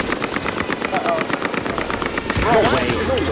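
Rapid automatic gunfire from a battle royale video game, a fast regular string of shots for about two seconds, then louder mixed effects and a voice-like sweep take over.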